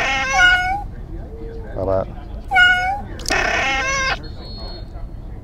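A cat in the Escape Simulator video game gives several clear, separate meows, one after another, and a player's voice speaks briefly between them.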